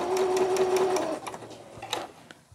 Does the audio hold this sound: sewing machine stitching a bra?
yes